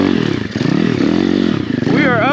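The single-cylinder engine of an Apollo RFZ Enduro pit bike, a budget Amazon machine ridden on a mountaintop trail, drones loud and steady at close range, with a rising rev near the end and a rider talking over it.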